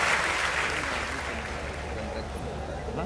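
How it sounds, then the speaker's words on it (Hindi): Audience applause at a Hindi kavi sammelan poetry recital, a dense steady wash of many hands clapping that stays fairly loud and even for about three seconds with no clear individual claps. "एक बार तालियां बजा दीजिए"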